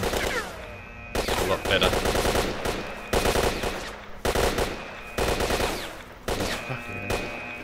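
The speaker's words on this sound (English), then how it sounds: "Rapid fire, that's the one that I was using. This is an okay gun compared to all the starting guns." Rapid automatic gunfire in the video game S.T.A.L.K.E.R.: Shadow of Chernobyl, loud bursts repeating in quick rhythmic volleys with short gaps between them, a brief spoken remark mixed in.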